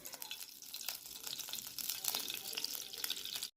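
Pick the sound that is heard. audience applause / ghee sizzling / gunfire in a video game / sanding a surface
ghee sizzling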